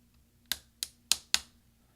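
Four sharp plastic snaps as a replacement X keycap on a 13-inch early 2009 MacBook Pro clicks into place, close, crisp and evenly spaced over about a second, with no talk.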